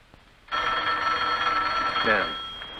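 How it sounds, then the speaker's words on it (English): Old-fashioned telephone bell ringing continuously in a home at night, a loud sustained metallic ring that starts abruptly and carries on steadily, with a brief voice near the end. "Where's the phone?"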